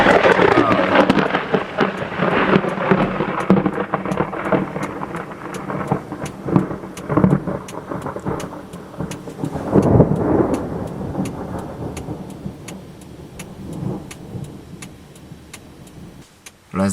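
Loud, rolling thunder from a lightning strike a few hundred meters away during a July storm in Florida, rumbling continuously for most of the span with light rain and a passing car underneath.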